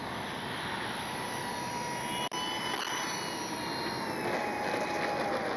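An ARROWS P-51D 850mm RC warbird model plane flies overhead with a continuous high electric whine that holds steady at moderate distance, broken once by a brief dropout, with no talk.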